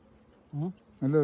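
Honeybees hum around a honeycomb in two short, loud, close buzzing bursts separated by a brief pause.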